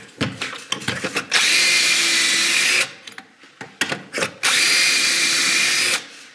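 A power drill drives screws into pocket holes in closet organizer woodwork. Two long, loud whirring bursts are heard, each preceded by clicking handling sounds and short taps, with nobody talking.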